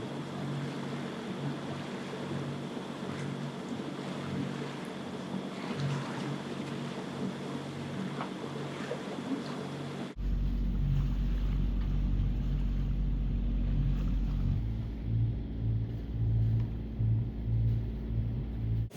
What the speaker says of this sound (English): We are motoring from Audierne to Sainte Marine today.